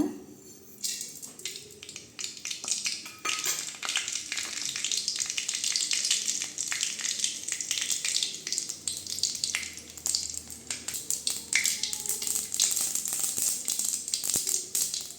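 Mustard seeds and urad dal fry in hot oil in a kadai for sirukeerai kadaiyal, crackling and popping densely and continuously, close and fairly loud, with no talk.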